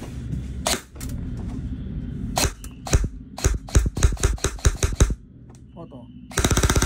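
A G&G Wildhog 7-inch AEG airsoft rifle with an electronic trigger unit fires. Sharp single shots come first, then a string of rapid close snaps and a final dense automatic burst, with some talk at the start.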